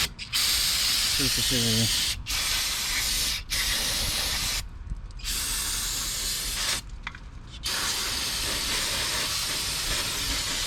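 Aerosol brake cleaner sprayed onto front brake parts of a Ford Escape, loud close hissing bursts broken by short pauses, with a brief spoken phrase partway through.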